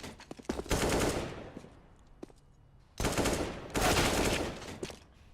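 P250 pistol fire in a professional Counter-Strike match on the Cobblestone map, heard as two long, dense volleys of rapid, loud gunshots separated by a brief lull.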